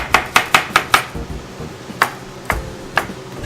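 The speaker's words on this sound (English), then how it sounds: "give them a little bit of a chop. Give them a quick little chop that way." A knife chops thin slivers of portobello mushroom on a board, giving a fast run of five crisp, close knocks followed by a few slower, spaced strikes.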